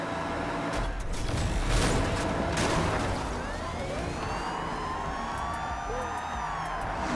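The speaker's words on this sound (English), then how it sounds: "Are my sirens just kicking in?" A wailing police siren in Need for Speed Rivals sweeps up and down steadily over engine rumble and road noise, loud and continuous.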